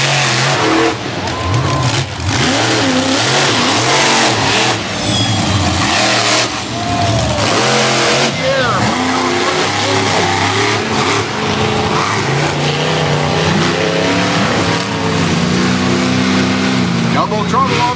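Monster truck Double Trouble roaring and revving at a show, a loud continuous engine drone with rising and falling surges under crowd noise and an announcer's voice throughout.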